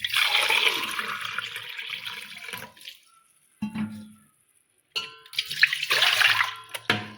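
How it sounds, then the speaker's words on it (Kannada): Water poured from a glass over rice for onion sendige, a loud gushing pour in bursts with short pauses between, close and clear with no talk. "ಈಗ 4 ಗ್ಲಾಸ್ ಮೇಲೆ ಹಾಕ್ತೀನಿ ನೋಡಿ ನೀರು"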